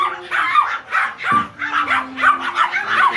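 A puppy barks and yips repeatedly in short, rapid bursts close by, high and insistent, with a brief whimper between the barks.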